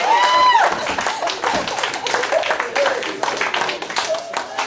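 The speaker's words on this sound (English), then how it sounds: "Give him a big round of applause," Applause and clapping from a crowd at the Strike Zone Omaha after party, dense and steady for several seconds, mixed with loud voices and chatter throughout.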